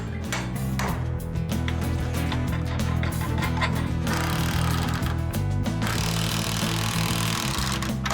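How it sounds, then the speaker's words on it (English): A power drill whirs steadily up close, its buzzing motor rising into louder grinding bursts as it bites through wood, drilling holes during house framing work, with no talking. "Start drilling, then we can joist hanger this thing"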